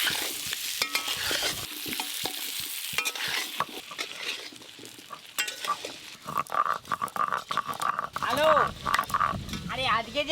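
Potato pieces frying lightly in hot oil for khichuri make a steady close sizzle with stirring clatter, while a person talks over it.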